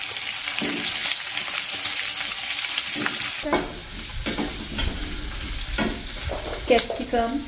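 Steady oily sizzling as fried spices and fennel seeds hit a hot pan, with a louder hiss from midway and occasional stirring scrapes, close by and with no one speaking.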